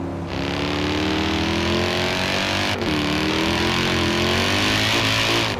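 A Mercedes-AMG C63 with a 6.2 litre V8 in Forza Horizon 5 revs and drones loudly and up close, a steady rich engine note that dips briefly midway as it shifts, then climbs again.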